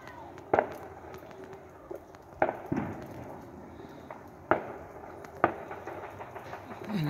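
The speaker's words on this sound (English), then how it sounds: "We've got fireworks going off across the way." Distant New Year's fireworks pop and crack at irregular intervals, several sharp bangs echoing faintly through a quiet, chilly outdoor night after rain, heard from a front yard.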